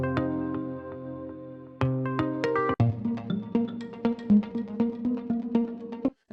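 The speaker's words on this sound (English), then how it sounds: "So if you have a melodic sequence like this," Melodic sample sequence for an Afro House track: plucked, keyed tonal phrase with sustained chords and a series of bright note hits, steady and fairly loud, no talk.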